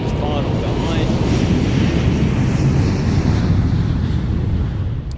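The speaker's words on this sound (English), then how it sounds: "the 350 starting the takeoff run as the 380 turns final behind" An Airbus A350 XWB airliner begins its takeoff run at the Farnborough International Airshow, a steady broad roar of jet engines mixed with wind rumble, sustained and fairly loud throughout.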